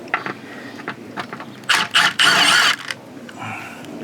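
A T30 Torx driver works a bolt loose on a Volkswagen Jetta, with short creaking, grinding bursts of turning close by, a longer grating stretch in the middle and quieter clicks around it.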